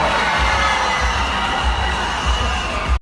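Pageant audience at Miss World Philippines cheering and shouting in a large hall, a loud continuous roar of many voices with occasional whoops, sustained throughout.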